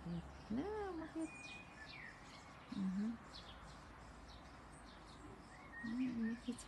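A few faint bird calls, short warbling chirps spread apart, against a quiet outdoor hiss, with soft voices talking in the background.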